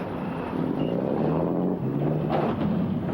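Military boats on the Han River pushing floating steel pontoon bridge sections, a loud, continuous motor drone mixed with water wash and wind buffeting on the microphone, steady throughout without speech.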